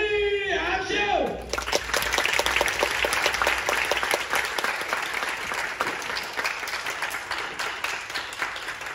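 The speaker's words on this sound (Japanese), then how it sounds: "音部部門ラスト飾ってくれるのはこのチーム、レベリー拍手。" Loud crowd applause and cheering for a dance team at a competition, starting after a brief announcer voice and carrying on dense and steady for several seconds.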